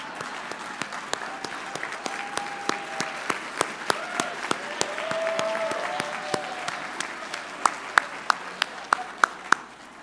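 Audience applause for Scholastic staff at a company meeting, a sustained crowd clapping with sharp individual claps standing out and a few faint voices underneath, swelling midway and tapering off near the end.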